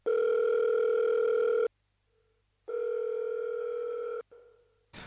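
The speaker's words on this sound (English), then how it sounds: "I just took these fucking phone ring sounds from YouTube, added in a Valhalla reverb to it." Electronic phone ringing tones drenched in a heavy Valhalla reverb, two long sustained ring bursts separated by a gap, with a washy reverberant tail trailing after each and a brief click near the end.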